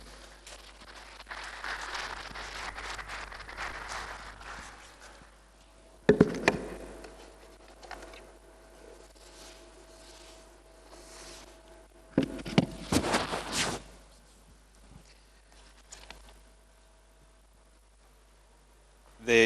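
Applause welcoming a speaker at a students' engagement forum in Ghana, heard as two distinct bursts of clapping from the audience, one around six seconds in and a louder one near twelve seconds, with quieter room murmur in between.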